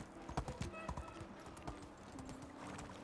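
Horse hooves clip-clop in an uneven gallop-like rhythm while riding in Medieval Dynasty, moderately close and fairly quiet, with a faint ambient bed behind them.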